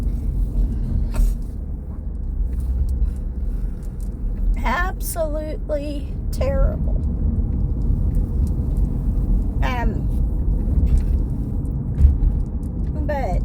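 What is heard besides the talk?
car driving, heard from inside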